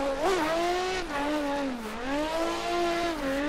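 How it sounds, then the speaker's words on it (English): A YASHIO Factory S15 drift car at Irwindale, its engine droning loudly with a wavering pitch as it slides, while tires squeal beneath the exhaust note. "I do love how that sounds, that little exhaust crackle when you get off throttle"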